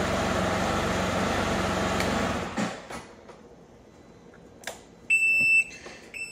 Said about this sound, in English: because you did not set the parking brake, you're going to have to contend with this beeping noise for a minute